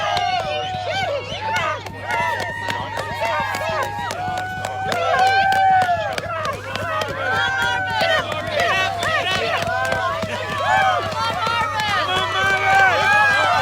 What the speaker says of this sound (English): Look at this crowd on Cordova Hill cheering on Marvin